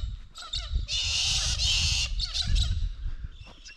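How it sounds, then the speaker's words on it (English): Galah cockatoos squawk in the bush in harsh, raspy bursts, one long loud call in the middle among shorter scattered cries, set against low wind-like rumble. "Galah's making a bit of noise."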